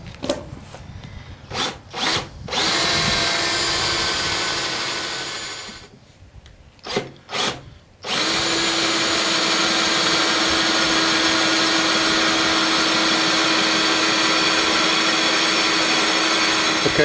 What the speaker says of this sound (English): Okay, so I've drilled straight down, and now I'm kind of going in at an angle like this.